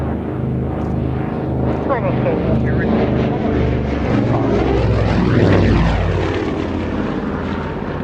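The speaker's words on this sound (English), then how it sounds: "The Avro Anson is powered by two Armstrong Sydney Cheetah 9 engines, each rated at 350 horsepower." A twin-engine Avro Anson powered by two Armstrong Siddeley Cheetah 9 radial engines drones steadily and loudly, swelling as it passes close by, with voices talking over the engine noise.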